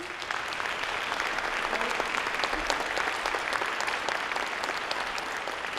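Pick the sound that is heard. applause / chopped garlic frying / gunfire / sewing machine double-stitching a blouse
applause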